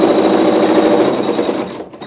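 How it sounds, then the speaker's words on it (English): A sewing machine stitches a tack-down with water-soluble thread, a loud close rapid whir of needle strokes that runs steadily for about two seconds and then slows to a stop. "we are going to just stitch a tack down to hold our insert in place"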